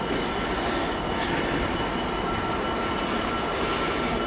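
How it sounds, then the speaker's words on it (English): Freightliner Class 66 freight train passing through a station, a loud continuous rumble and wheel noise of wagons rolling by close at hand, steady throughout with no talking. "Passing through now, we have a Freightliner Class 66 running from Crewe Basford Hall"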